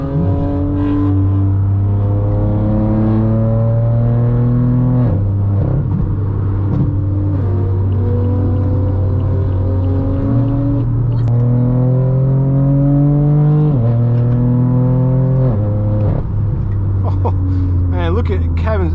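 A straight-piped BMW M4 with the G80-generation engine revs loud and close, its note climbing in repeated upshift-like sweeps that drop back and rise again, with driving in Los Angeles.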